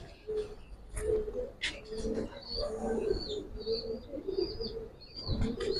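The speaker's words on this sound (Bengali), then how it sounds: "বিগ সাইজের একটা কবুতর, বিগ সাইজ দেখেন, কোয়ালিটি দেখেন।" A big-size pigeon coos in low repeated murmurs close by, with a few sharp higher chirps and a faint flutter mixed in. The sound is quiet and continuous, with no talking.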